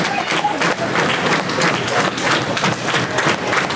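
A British pro wrestling crowd applauds loudly and continuously, with dense clapping and crowd noise filling the arena at an even level.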